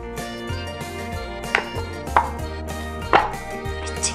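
Daiso clay slime being cut, giving three soft, squelchy cutting sounds spaced a second or so apart over steady background music.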